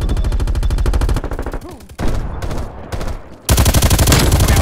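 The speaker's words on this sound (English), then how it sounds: "Shooting." Stoner 63 LMG firing in Call of Duty on the Nuketown map: loud, close, rapid automatic bursts with a steady rhythm, broken by a short pause and then resuming.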